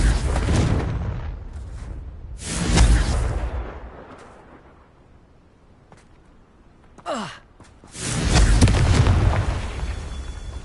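Confringo fire spell explosions in Hogwarts Legacy: several loud, booming fiery blasts with rushing tails, spaced apart, and a short whooshing cast sound just before the last big burst.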